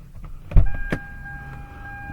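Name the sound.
car power window rolling down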